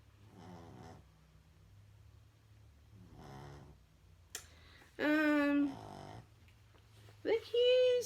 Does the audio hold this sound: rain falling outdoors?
no